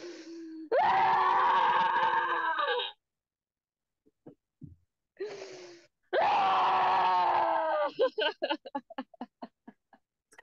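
A person screams and groans in raw, drawn-out bursts during a rage scream session, with a long wail, a short pause, then another sustained scream breaking into choppy sobbing cries.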